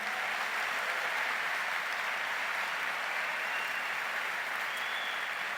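Dense, sustained applause from a large church congregation fills the whole stretch, steady and loud without pause.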